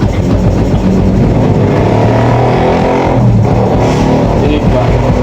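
A Yamaha FZ motorcycle engine runs loud and close with a continuous clattering rattle over its steady drone, unbroken from start to finish.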